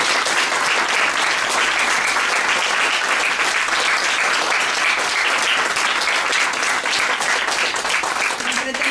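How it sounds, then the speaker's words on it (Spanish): An audience at a book presentation breaks into loud, dense applause, sustained evenly for nearly nine seconds without letup. "E un aplauso."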